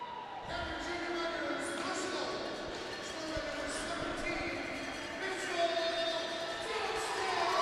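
Home crowd of Cameron Miners fans at a hockey semi-final game cheering after the host team scores first, a steady broad roar with whistles and shouts filling the arena throughout, swelling slightly near the end.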